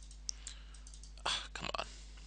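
Computer mouse clicks inside a virtual machine, heard as a few quiet, sharp clicks spread across the stretch, with a small cluster of quick taps near the end against a low steady hum.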